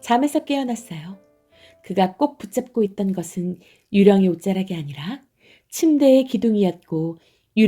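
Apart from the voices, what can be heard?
None of the usual background noises is heard.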